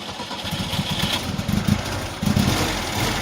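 A Chevrolet Lacetti engine runs steadily after a compressor replacement, a close, continuous mid-pitched idle with slight fluctuations and no talk.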